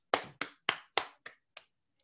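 A short burst of hand claps for the presenters: six distinct sharp claps in a slow, uneven rhythm, close and fairly quiet, the last fading out. No one speaks.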